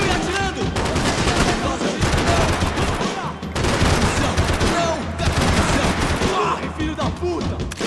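Sustained gunfire in a video game, a loud dense barrage of rapid automatic shots that runs nearly continuously with a brief lull midway.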